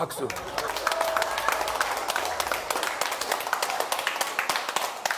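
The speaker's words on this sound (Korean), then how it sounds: "박수" An audience at a public lecture gives a round of applause, with many hands clapping in a dense, steady patter that holds at a moderate level throughout.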